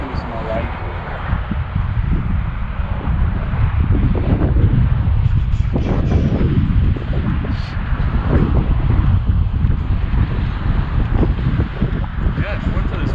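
Wind blasting across a GoPro microphone on a morning bike ride, a loud continuous low rumbling roar that fills the whole stretch, with someone talking over it.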